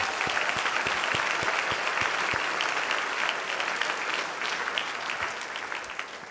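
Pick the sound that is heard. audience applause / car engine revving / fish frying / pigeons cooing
audience applause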